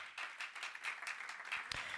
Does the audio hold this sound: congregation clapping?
yes